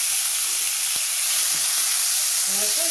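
Shrimp fry in hot oil in a wok for a Bengali dal dish, giving a steady, loud broadband sizzle throughout with faint clinks of stirring.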